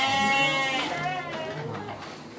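A sheep bleats in a long, wavering cry at a livestock pen where goats and sheep are kept for sale, close and fairly loud, with talk and farmyard murmur behind it.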